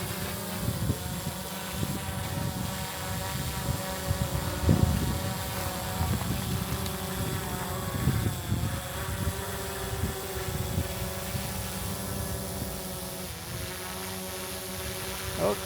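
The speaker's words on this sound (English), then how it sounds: "this is a drone taking off" A drone taking off and climbing over an ancient road during a field survey at Horvat Kush. Its rotors give a steady, close, buzzing whine that shifts slightly in pitch as it rises, with occasional thumps and no talking.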